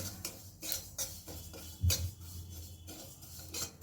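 Sesame and poppy seeds are stirred in a pan over a very low gas flame, giving a series of light scraping and clinking strokes with a few sharper knocks of the utensil against the metal.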